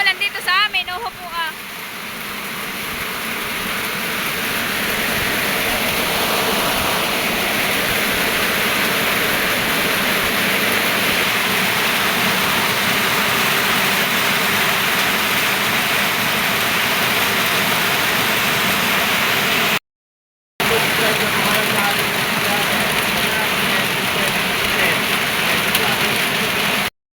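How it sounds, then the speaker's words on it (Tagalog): Heavy rain falls steadily in a rural farm setting by a piggery, a loud continuous broadband roar lasting throughout, briefly cut out near the end, with faint talk underneath. "Malakas ng ulan dito sa amin."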